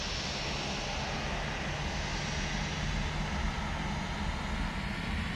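Airbus A321 airliner engines in Microsoft Flight Simulator 2024, heard from outside the aircraft near the gate: a loud, steady jet whine and rumble holding evenly throughout, with no talk.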